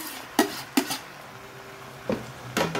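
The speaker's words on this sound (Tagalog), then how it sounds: "Ilagay natin ating pork ribs." Pork ribs go into a pan with browned garlic and onion and are mixed: a few sharp clanks and scrapes of utensil against metal, separated by short pauses, close and fairly clear.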